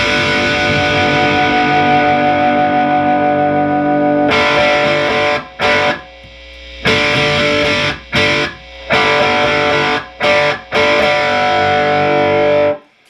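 Heavily distorted electric guitar through a B-52 AT100 all-tube 100-watt amp with the contour knob rolled, loud and close, a long sustained chord followed by choppy, stop-start chords separated by short silences.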